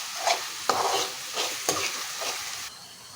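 Chopped onions and green chilies frying in a pan while being stirred, several scraping strokes of a spoon over a soft sizzle, close and clear.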